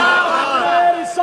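A crowd at a religious gathering answers the Takbir call in unison, a loud, massed chant of many voices that rises and sustains and then tails off briefly near the end.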